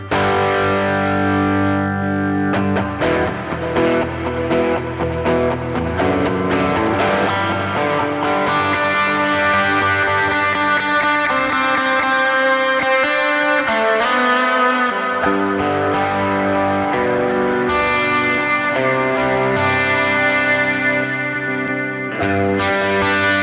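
An electric guitar plays chords through crunchy distortion from a Line 6 Helix, with a chorus-like shimmer, sustained and continuous with no voices.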